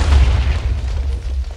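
A landmine trap goes off in Minecraft, a deep, loud game explosion boom with a rumbling low tail that lasts the full moment, no talking over it.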